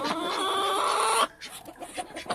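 Chickens clucking close by, a drawn-out cackle followed by several short clucks, with no talking.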